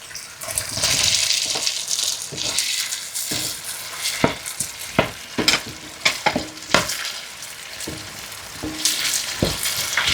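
Bamboo shoots stir-fried with tomatoes in a hot pan, a steady sizzle broken by sharp scraping clacks of a spatula against the metal, close and fairly loud with no talking.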